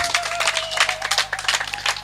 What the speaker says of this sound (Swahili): Kuja tumpigie makofi.